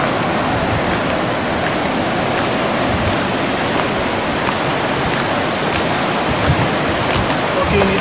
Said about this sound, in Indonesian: Ini dia pantainya.